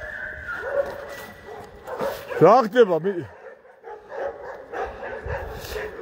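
Dogs yip, whimper and bark in short bursts during a midnight walk through a cemetery with about thirty dogs, one close yelping call standing out while people talk throughout.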